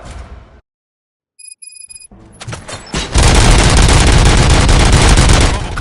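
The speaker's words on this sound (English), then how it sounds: "Gunshots? What's going on?" Gunfire in a RoboCop action scene, a short beep and scattered impacts building into a loud sustained burst of rapid shots that fills the last few seconds.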